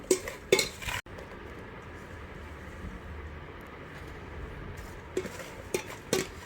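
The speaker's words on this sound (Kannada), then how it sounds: "ಸ್ವಲ್ಪ ಮಾವಿನಕಾಯಿ ಸ್ವಲ್ಪ ಉಪ್ಪು ಹಾಕ್ಕೊಂಡು ಬೆರೆಸ್ತಾ ಇದ್ದೀವಿ" A dry spoon scrapes and clinks against a bowl while mixing Totapuri mango pieces with salt for Karnataka-style pickle, sharp clatters near the start and end with steady stirring noise between.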